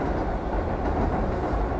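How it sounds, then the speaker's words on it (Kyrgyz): A train passes close by with a loud, steady broadband rumble and rattle of wheels and cars that fills the whole stretch without pause or speech. "Азыр поезд өтүп кетсин."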